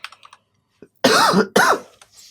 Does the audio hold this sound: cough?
yes